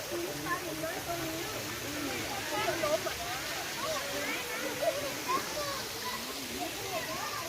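Steady rushing water at Kham Hom waterfall, running low, with voices chatting close by over the continuous wash.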